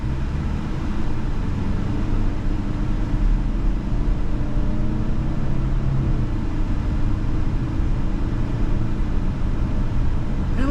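A 2024 Subaru Legacy Limited with a new engine pulls away gently and builds up to road speed, its steady low engine rumble and road noise holding evenly throughout without a sharp rev.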